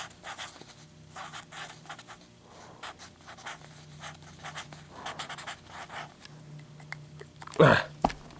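Pen scratching across paper in a run of short strokes, fairly close and steady, with a faint low hum beneath and a brief louder vocal burst near the end.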